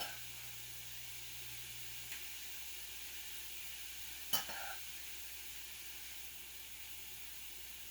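Food sizzles in a hot pan with a soft, even hiss, and one sharp clatter marks a piece being flipped before the frying settles back to a low, continuous crackle.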